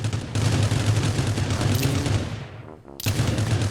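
Automatic gunfire in the Rules of Survival battle royale game, a dense continuous burst of loud shots that briefly cuts out near the end before resuming at full strength.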